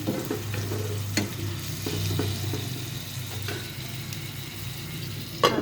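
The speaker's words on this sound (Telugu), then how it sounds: "ఇవి కూడా కాసేపు ఫ్రై అవ్వాలి ఉల్లిపాయ ముక్కల్లోనే" Prawns frying with onion pieces, salt and turmeric in a pan, a close steady sizzle broken by several sharp spatula knocks and scrapes, with a louder clatter near the end; no talking.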